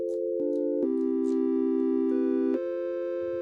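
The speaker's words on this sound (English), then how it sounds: "we've got a smooth little sine and triangle wave happening here" Smooth sine and triangle wave tones from a Deluge synthesizer, sustained steady pitches that step between notes, clean and moderately loud with no voices.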